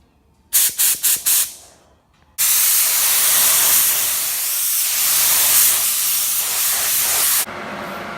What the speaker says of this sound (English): And that's the epoxy primer applied.